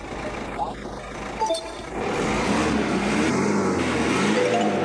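A car engine hums steadily inside the cabin, rising into a fuller, louder drone about two seconds in as a simulated sport mode engages, with brief voices early on.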